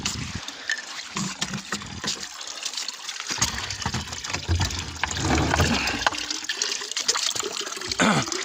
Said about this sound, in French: Donc on va se remplir de bouteilles,